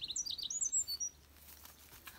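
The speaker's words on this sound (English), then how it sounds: "It's a place where birds sing." Birds sing in quick, high chirps and trills, a bright burst of calls that trails off into near quiet.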